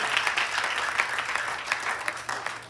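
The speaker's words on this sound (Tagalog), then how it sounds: "Let's give them a big, big round hand of applause." A church congregation at a 20th anniversary thanksgiving service applauds, steady crowded clapping with scattered sharper claps, fairly close and continuous throughout.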